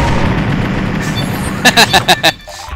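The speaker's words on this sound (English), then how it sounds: "Hold down mouse for rapid fire." Rapid-fire shooting in the video game Insaniquarium, five quick, punchy bursts in an even rhythm near the end, following a person talking over game sounds.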